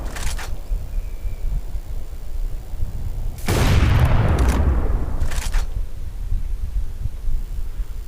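A sniper rifle fires in War After, a PvP FPS shooting game: a loud, booming shot lands near the middle with a long decaying tail, and fainter, shorter shots or clicks sit at either side, over steady game ambience.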